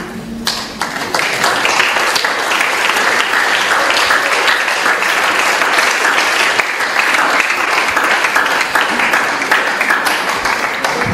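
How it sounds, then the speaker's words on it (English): Sustained, dense applause from a crowd at a high school graduation ceremony, loud and even throughout, a rush of many hands clapping together with no pause. "Give them a round of applause."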